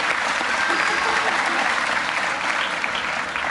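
Steady, dense applause from an audience at a SeaWorld sea lion show, loud and continuous for the whole stretch with no gaps.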